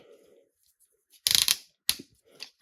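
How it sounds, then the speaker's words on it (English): Ratchet joints on a Red Dragon Thunderzord action-figure toy click in a few sharp bursts, one dense cluster followed by separate crisp snaps, close and moderately loud with no talking over them. "You hear those nice ratchet joints."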